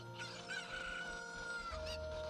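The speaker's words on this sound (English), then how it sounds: "I hear a cackling cuckoo, and that makes me uneasy" Cucco chickens in Zelda: Ocarina of Time cackle and crow in Kakariko Village, a loud, steady run of rooster-like calls over game music, with a rising squawk near the end.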